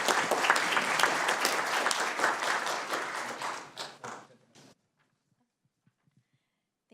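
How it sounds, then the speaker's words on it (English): A round of applause at a county Board of Supervisors meeting, dense and loud for about four seconds before tapering off into a few scattered claps and near silence. "So if we could give her a big round of applause,"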